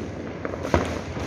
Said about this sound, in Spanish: allá a lo lejos podemos ver cómo los juegos pirotécnicos hacen su aparición